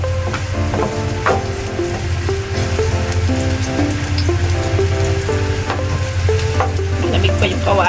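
A leftover dish frying in a pan sizzles steadily and loudly throughout, with stirring and faint melodic tones running alongside the crackle.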